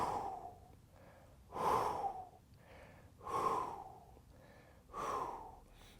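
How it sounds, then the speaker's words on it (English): Three heavy, forceful exhalations during a leg exercise with a grappler and blood flow restriction bands, evenly spaced about every one and a half seconds, close and alone with no talk. "Breathing out."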